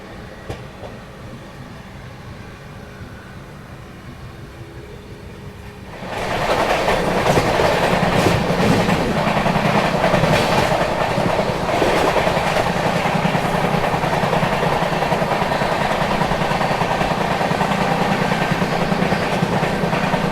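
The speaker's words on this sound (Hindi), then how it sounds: "सामने से गतिमान एक्सप्रेस।" Gatimaan Express, an Indian high-speed train, passing close by: after a quiet opening, a loud steady rush of rolling wheels and wagons with clickety-clack rhythm suddenly rises and continues to the end.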